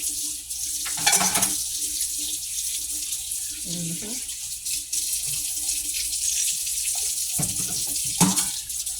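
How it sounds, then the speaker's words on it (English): Water hisses from a kitchen faucet into a pot at the sink, running steadily with brief surges and clanks of the pot being handled. "Put a little bit of water and soap in that pot"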